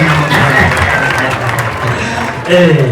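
A wedding crowd claps and cheers continuously, with voices mixed into the steady wash of applause.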